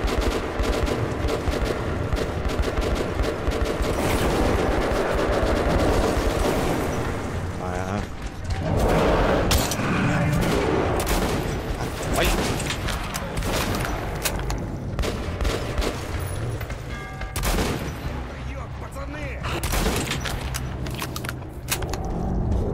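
Gunfire in the video game Metro 2033 Redux: repeated loud shots and bursts over about twenty seconds, mixed with booms and game noise, with talk in the background.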